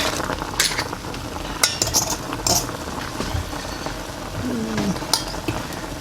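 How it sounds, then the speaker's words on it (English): Ramen noodles dropped into a pot on the burner to cook for oyster ramen, with clinks and scrapes of utensils against metal over a low bubbling sizzle. "we'll put the ramen noodles in here, get them cooking"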